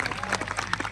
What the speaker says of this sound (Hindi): जरा तालियां बजा दीजिए ताकि रोमांच शुरू हो।